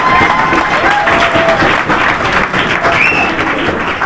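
Children at a school opening ceremony in Haryana break into dense, loud applause mixed with crowd cheering, sustained throughout with scattered voices and a few whistle-like squeals riding over the clapping.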